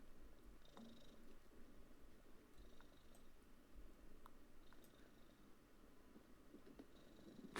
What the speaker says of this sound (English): My cat just wants to say hello, but she's being a little bit disruptive.